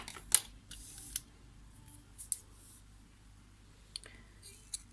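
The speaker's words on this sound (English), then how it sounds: "And just trim your pom-pom up." Scissors snip around a yarn pom-pom during a crochet project, a handful of short crisp clicks spaced irregularly over quiet background.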